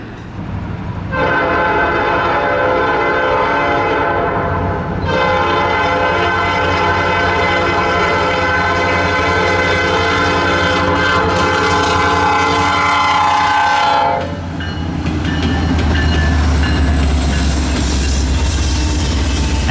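Intermodal freight train passing with its Nathan P5 air horn blaring long loud sustained chords, a short break and then a second long blast, over a steady rumble of rolling cars that continues after the horn stops.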